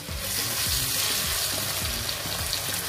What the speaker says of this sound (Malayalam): ഓയിലിലേക്ക് ഈ സവാളയും തക്കാളിയും പച്ചമുളകും ഇട്ടിട്ട് ഒന്ന് വഴറ്റിയെടുക്കാം.